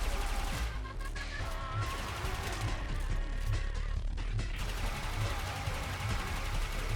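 Rapid bursts of gunfire from Akstiletto Prime pistols in the Warframe video game, repeated sharp shots in a dense volley with a faint voice at times underneath.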